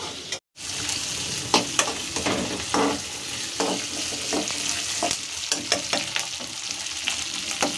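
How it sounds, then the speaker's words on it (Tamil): Small onions sauté in a pan over a high flame, giving a steady sizzle and frying crackle broken by scraping stir strokes, close and moderately loud. "அடுப்பை நல்லா கூட்டி வச்சு வெங்காயம் லைட்டாக வதங்கணும்."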